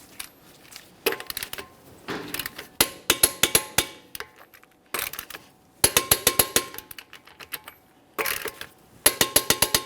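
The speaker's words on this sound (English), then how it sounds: "With the wheel safely on the ground, we'll be torquing these to 130 in a crisscross manner." A torque wrench tightens the lug nuts on a 2011-2021 Jeep Grand Cherokee wheel to 130 foot-pounds in a crisscross pattern, giving loud, close bursts of rapid ratcheting clicks separated by short pauses, with no talk.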